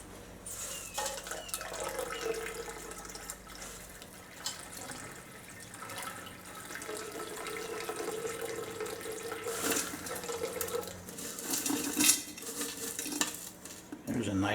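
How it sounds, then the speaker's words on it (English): Electrolyte liquid pours and splashes steadily into a 5-liter beaker, with light clinks of glass and metal, close by and fairly quiet, no talking. "Now I'll pour the electrolyte off into my 5-liter"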